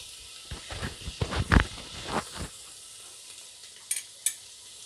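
Onions sizzle and fry in a pan for soya ball pulao, with a steady quiet hiss broken by bursts of louder crackling as they are stirred, then a couple of sharp light clinks near the end.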